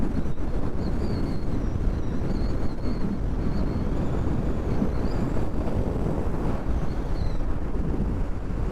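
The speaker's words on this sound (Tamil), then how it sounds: "ஹெல்மெட்டுக்குள்ளே காற்று நல்லா ஜில்லுன்னு வருது." Wind roars into a motorcycle helmet while riding a Himalayan BS on a solo trip from Coimbatore to Kodaikanal, a loud, constant broadband rush with no break.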